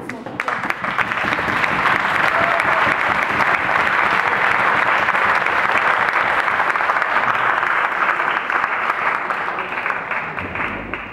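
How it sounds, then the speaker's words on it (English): A crowd at a youth debate final gives the competing teams sustained, dense applause, loud and even throughout with faint voices mixed in, tapering off at the end. "Give the teams another round of applause."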